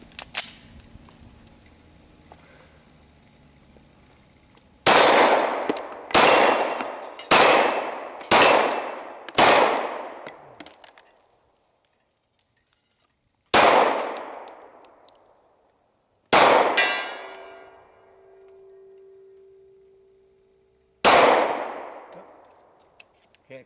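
Glock .40 pistol shots ringing steel targets outdoors: a quick run of five loud cracks, then three more spaced shots after pauses, each with a short metallic ring, a faint hum lingering after one, no talk.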